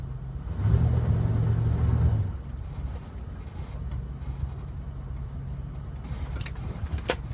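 A Ford-chassis Class A RV with an E4OD transmission pulls away, a low engine rumble swelling briefly then settling into a steady idle-like drone, with a few faint clicks near the end.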